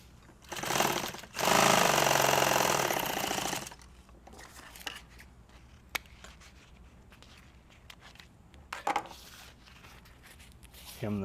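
A sewing machine runs in a loud, fast, steady burst of about two seconds while hemming nylon tactical gear, preceded by a shorter stitch run and followed by quiet handling clicks and a brief later burst.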